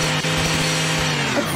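A chainsaw in the video game Garry's Mod gives a loud, close, steady buzzing drone with a fixed low engine tone that holds for about a second and a half, heard alone without talk.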